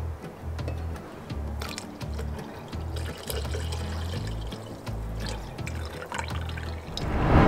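Boiled and cooled cow's milk poured into a ragi mixture, a continuous liquid gurgle with splashy bursts and a louder rush near the end, no talking.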